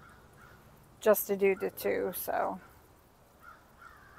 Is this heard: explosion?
no